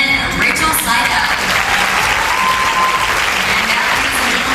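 Loud, sustained audience applause fills a hall at the 2008 Miss Nebraska pageant, steady clapping throughout with no break.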